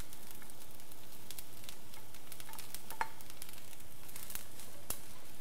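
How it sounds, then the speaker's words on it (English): An egg goes into a pan already frying pineapple, giving a soft, steady sizzle with a few faint scrapes and taps of stirring, quiet and without voices. "And here I'll add the egg in."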